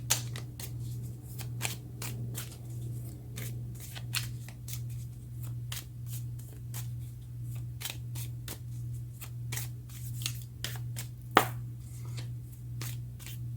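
Tarot cards riffle and slap in a series of quick, crisp bursts during a reading, close and fairly quiet over a faint low hum, with no talking.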